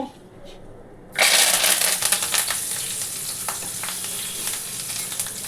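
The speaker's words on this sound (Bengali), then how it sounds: "এবার কারি পাতাটা, শুকনো লঙ্কাটা আমি একটু ভেজে নিলাম।" Curry leaves and dried chillies hit hot oil with a sudden loud burst of sizzling that continues as a dense, crackling hiss, settling slightly but staying strong to the end.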